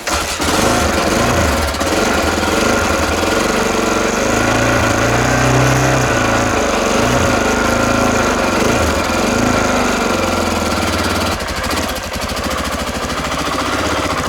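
A motorcycle engine runs loud and close for the whole stretch, a steady, throbbing, rough idle with slight rises and dips and no talk over it.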